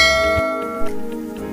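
Notification bell sound effect: a single bright chime with ringing overtones that decay, loud and close, alone with no talk.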